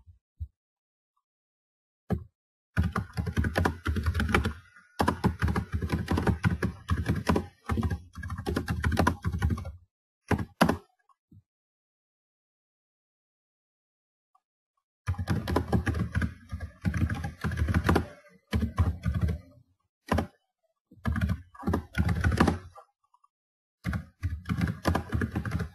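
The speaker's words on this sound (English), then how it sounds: "So we'll go ahead and type in a post here for this Fun Run." Typing a blog post on a computer keyboard, with quick bursts of clattering keystrokes separated by short pauses and a longer silent gap in the middle, close and fairly quiet.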